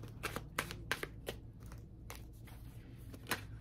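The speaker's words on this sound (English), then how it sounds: "One more little shuffle here." A Rider-Waite tarot deck is shuffled close by, giving a few soft riffling bursts with brief pauses between them against a quiet background.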